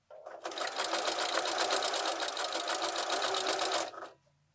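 A sewing machine runs steadily for about four seconds as it stitches along the edge of a scrappy quilted place mat, with a fast, even mechanical whir, then stops abruptly.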